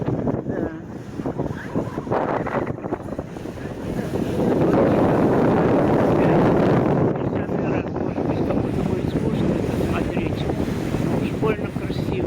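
Boat cruising on Lake Michigan off Chicago, with steady wind buffeting the microphone and broadband rushing water noise that swells louder midway, continuous and close throughout.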